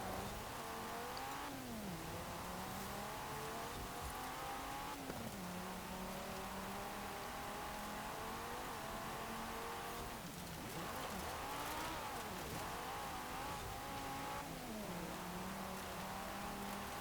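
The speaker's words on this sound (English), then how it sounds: "Another pair of cracking all-wheel drive turbocharged front engine cars behind us" Turbocharged, front-engined, all-wheel-drive cars in the Forza Horizon 4 racing game roar steadily through a retro rally, with engine notes repeatedly rising and dropping as they shift. A constant noisy hiss like rain runs beneath, and nobody speaks.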